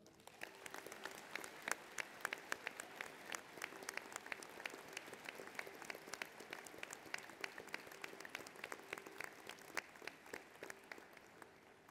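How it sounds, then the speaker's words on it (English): Steady applause from a large audience at a university graduation ceremony, dense clapping that holds at an even level throughout without speech. "please honour them with your applause"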